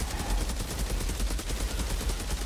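Lava rounds from a 30-shot weapon in the shooter game Outriders fire in a dense, rapid, continuous burst of cracking shots, loud and unbroken throughout.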